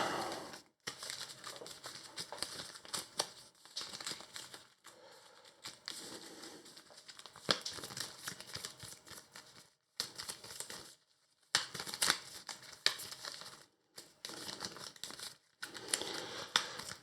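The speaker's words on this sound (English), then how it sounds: "So this gets shuffled." A deck for the Arkham Horror card game is shuffled by hand, giving close rustling, crinkling card noises in uneven bursts with brief silent gaps between them.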